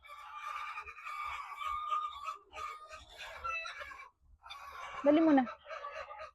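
Hens cluck and squawk close by inside a poultry house during egg collection, with one loud burst of clucking near the end, under a person's talk.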